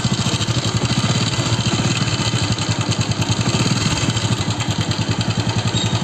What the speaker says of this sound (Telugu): బండి hero Honda CD deluxe. ఇంజన్లో sound అనేది వస్తుంది.